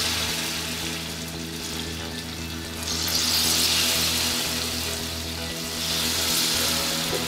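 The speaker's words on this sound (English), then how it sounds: "Now take the baby corn and put it gently into the oil." Baby corn pakodas going into hot oil for deep frying, a steady hiss with two swells of louder sizzling, heard fairly close and without talk.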